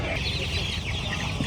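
Chickens cluck in a busy poultry market in Mydukuru, a steady loud clamor of many birds with crowd noise beneath throughout.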